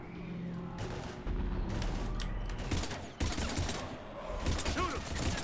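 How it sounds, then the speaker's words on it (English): Heavy gunfire crackles in Mass Effect 3, with rapid automatic bursts, sharp single shots and booms over a rumbling battle bed, loud and layered with occasional game voices. "Taking heavy fire."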